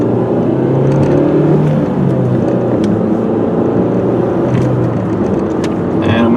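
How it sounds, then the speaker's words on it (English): A 2004 Saturn Ion with a manual gearbox cruises steadily in fifth gear, its engine and road noise forming a continuous, even drone from the cabin with no notable revving. "Throw it into 5th gear just so you can see, yep, it does cruise along, no problem in 5th gear."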